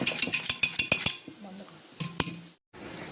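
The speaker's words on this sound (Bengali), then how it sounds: "ডালটা এরকম একটা ঘুটনি দিয়ে এরকম করে ঘুটে নেব" Boiled lentils are mashed in a pot with a wooden ghutni masher. Quick rhythmic knocks and clatters come close up, then pause and return in a short burst, with no voices.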